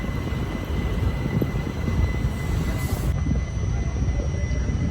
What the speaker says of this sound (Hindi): साबरमती बीजी रेलवे स्टेशन से निकलती हुई